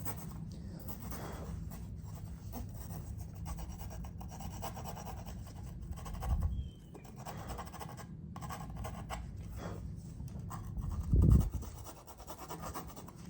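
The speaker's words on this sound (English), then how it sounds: "I'm just deburring that back side of that hole to get rid of the fuzzies" Deburring the back side of a drilled hole in real carbon fiber on an RX-7 gives a faint, close scraping and rasping, with light rubbing strokes and a couple of slightly louder knocks.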